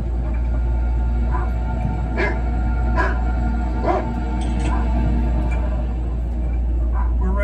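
A big dog barks and yips behind a door during a home entry, several bursts spaced a second apart over a steady low hum, with some whimpering mixed in, fairly close but muffled.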